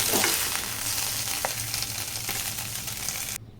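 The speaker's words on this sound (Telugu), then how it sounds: "ఇలా వేయించుకొని పక్కన పెట్టుకోవాలి." Green chillies, mint and coriander fry in oil in a pan for tomato chutney. A close, continuous sizzle runs throughout with a few faint stirring scrapes, then drops off at the end.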